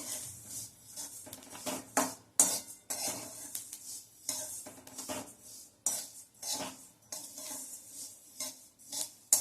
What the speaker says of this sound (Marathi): खसखस घातल्यावर एखादा मिनिटच फक्त परतायचंय